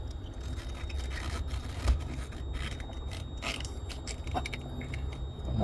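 A plastic latch mechanism is worked into the rear armrest of a 2009 Lexus IS250, giving close, continuous scraping, creaking and rubbing with a few sharp clicks and knocks, no voices.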